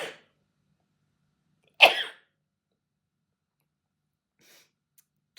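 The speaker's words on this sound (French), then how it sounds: "Attention, je vais éternuer." A single sharp sneeze bursts out close by, loud and brief against near silence, with a faint click of movement just before and soft rustles afterward.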